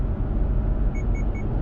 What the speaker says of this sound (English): it does say lane departure. It does warn you anytime it can't find the lines or anytime you get too close to another vehicle.